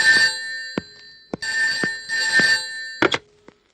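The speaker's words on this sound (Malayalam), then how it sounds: "ഫോൺ." A telephone rings in a Malayalam movie scene: a run of trilling bell bursts separated by short pauses, loud and close, with no talking over it.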